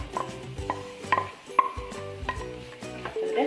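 A spoon stirs a cup of finely chopped beans into a frying mixture for a fried rice chicken samosa filling, giving repeated scraping strokes and bright metallic clinks against the pan in a loose, steady rhythm, with no talk.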